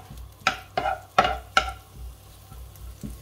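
A spatula stirs and sears food in a hot pan for an oriental pizza, with four sharp scraping strokes over a steady low sizzle, close and fairly loud.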